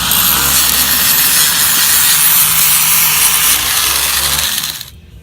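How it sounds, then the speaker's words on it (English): A grinder works loudly and steadily on the welds of a turbo downpipe for an '89 Acura Integra D16 turbo build, a harsh continuous grinding roar that spins down and cuts off near the end. "Doing a little grinding."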